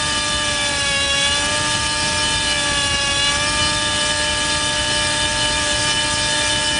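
The tail motor of an RC helicopter whines steadily and loudly up close while the rudder is adjusted, its pitch shifting slightly, with no talking.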